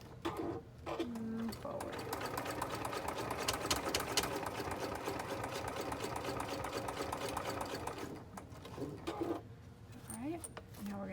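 A sewing machine stitches a binder pouch in a steady rapid whir that runs close and loud for several seconds, with short stops at either end and a voice speaking briefly.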